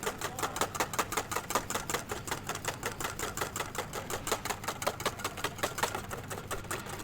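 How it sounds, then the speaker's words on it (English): A whisk beating clarified butter into an egg-yolk sabayon in a bowl for hollandaise, giving steady, fast rhythmic clicks against the bowl that run throughout at a moderate level with no voices. "Continually whisking it, putting in a slow stream of clarified butter or ghee."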